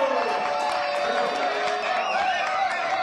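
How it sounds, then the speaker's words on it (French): Studio audience in a French TV cooking show applauds and cheers for a guest, a dense continuous wash of clapping with a few whoops and voices mixed in throughout. "Claude Alexis, applaudissements s'il vous plaît, pour Recette Pompette."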